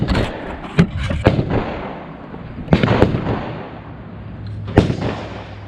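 Gunshots crack at an outdoor shooting range as a shooter aims at a shotgun shell, several sharp reports spaced a second or two apart and echoing briefly, with faint voices between them.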